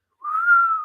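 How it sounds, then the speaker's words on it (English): Florian's signature whistle: a single clean, rising-then-steady whistled note lasting under a second, close and clear against silence. "How much do you love the Florian whistle?"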